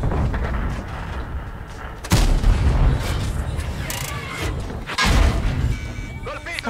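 Gunshots fired in a video game, heavy booming shots with sharp onsets amid continuous rumbling game noise, a few blasts spaced several seconds apart.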